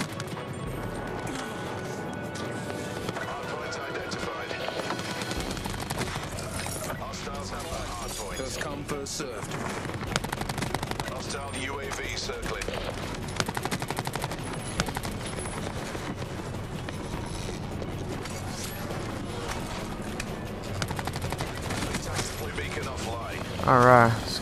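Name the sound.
SMG gunfire in Call of Duty Black Ops 4 video game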